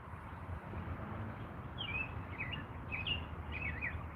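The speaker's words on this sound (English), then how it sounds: "The birds are very happy." Birds chirp faintly in short, scattered bursts over a low, steady background rumble, with several quick twittering calls clustered toward the end.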